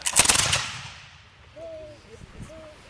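A volley of muskets fired together by soldiers at a demonstration, one loud close crack that rolls and decays over about a second, followed by faint voices.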